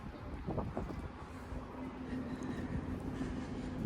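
Strong wind buffets the microphone at a railway junction just after a fast train has passed, a steady low roar with a faint lingering rail hum, loud and unbroken.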